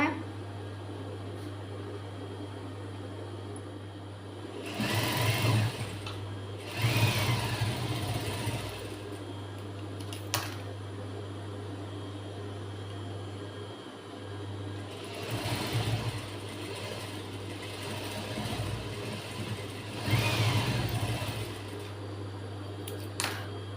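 A sewing machine stitches a blouse seam, running in a few short bursts of rapid whirring as it sews forward and back in reverse, over a constant low electrical hum with quiet gaps between.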